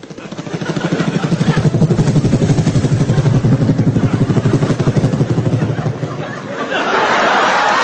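A voice imitates a helicopter on a comedy stage, a loud, steady rhythmic chopping pulse held for about six seconds before it swells into audience applause and cheering.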